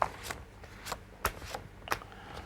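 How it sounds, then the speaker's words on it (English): A deck of playing cards is shuffled at a poker table on a televised tournament broadcast, giving several sharp riffling bursts spaced about half a second apart, close and fairly loud with no talk over them. "Let's just take a quick shuffle and see what cards we get up."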